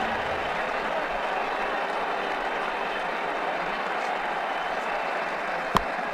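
Crowd applause in the cricket video game Ashes Cricket 2009, a sustained, even wash of clapping from a stadium crowd with one brief sharp click near the end.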